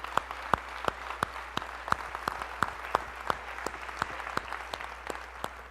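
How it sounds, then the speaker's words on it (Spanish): Sparse, distinct claps ring out at a fairly regular pace, faint and somewhat distant, over a low background hum, with no voices. "Un aplauso a estos chavos."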